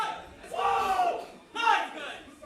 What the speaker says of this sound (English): So that's some cheering. I don't know if you just heard that.